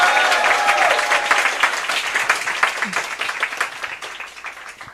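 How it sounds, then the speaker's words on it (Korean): An audience at a youth committee launch and appointment ceremony applauds, a full burst of clapping that gradually thins and fades over a few seconds. "네, 큰 박수 부탁드리겠습니다."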